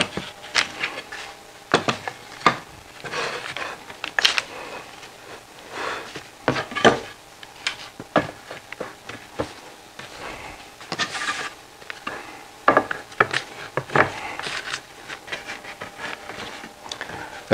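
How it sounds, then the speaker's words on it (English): Wooden picture frame pieces being fitted together in a frame clamp, giving a steady run of close, sharp wooden knocks, taps and rubbing scrapes at an irregular rhythm, with no talking. "now I can use the frame clamp to glue everything together"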